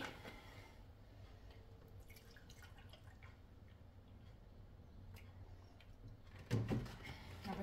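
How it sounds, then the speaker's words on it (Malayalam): A cup of milk is poured into thick curd for mango lassi, giving a faint, steady trickle close by in a quiet kitchen, ending with a soft thud. "1 കപ്പ് പാലാണ് ഒഴിക്കുന്നത്."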